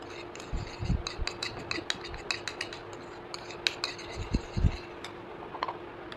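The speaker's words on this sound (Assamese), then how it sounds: "এয়া এল'ভেৰা জেল লৈছোঁ, এনেকৈ মিক্স কৰি দিলে হ'ল।" Coffee face scrub being stirred into aloe vera gel, soft scraping and rubbing with light clicks of a spoon against a bowl, close and quiet under a steady low hum.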